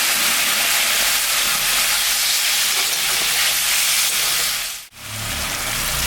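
A little water hits a hot pan of ginger, cumin and dried and green chillies for a fish curry, setting off a loud, continuous steam hiss that briefly drops out near the end and then resumes. No voices are heard.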